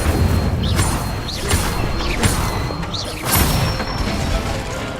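Repeated Incendio fire spells cast in Hogwarts Legacy, a series of whooshing bursts about every second with rising swish tones, mid-loud over steady game ambience.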